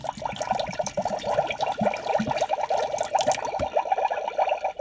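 Water filling a Magic Mixies toy cauldron, a close, continuous bubbling and splashing pour with a rapid, uneven texture that eases slightly near the end.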